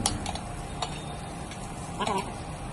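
Spoon stirring pieces of rotla with spices in a pan: scattered light metallic clinks and scrapes against the pan over a steady background hiss.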